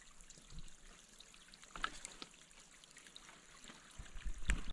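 Water trickles faintly in a small stream beside a cold Appalachian Trail valley path, a soft, steady babble with a few slightly louder splashes near the end.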